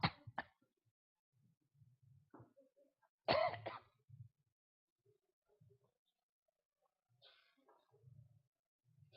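A person coughs and clears their throat a few times in short bursts, with quiet pauses and soft murmurs between them, during a Korean church revival service.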